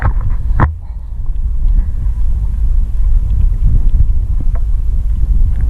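Strong wind on the Norfolk Broads at Horning buffets a fishing umbrella and microphone with a heavy low rumble. It gusts steadily throughout, with a brief flap or thump near the start and no talking.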